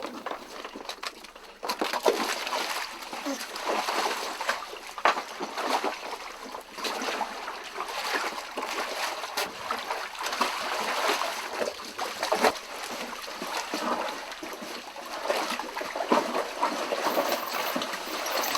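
Sheep splash and churn through a sheep dip bath of dyed bloom dip in the Yorkshire Dales, a continuous, close, watery sloshing and spattering with no talk.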